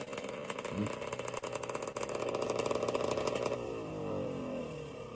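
A vintage snowmobile engine runs hot and close, a steady buzzing two-stroke drone with rapid clattering pulses that smooths into a continuous hum for the last second or so.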